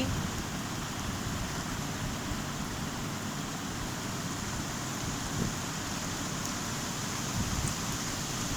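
Steady, dense rain falling with a constant hiss, no voices, a continuous wash of sound throughout.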